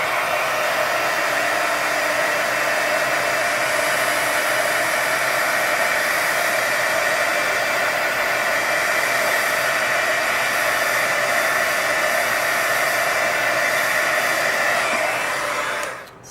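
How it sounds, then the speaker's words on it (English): Heat gun drying alcohol ink on a bookmark, a steady, loud whooshing blower hum held unbroken at close range for over fifteen seconds before cutting off at the very end. "I'll take the heat gun, and slowly, because this will definitely make it go overflow if you're not too careful."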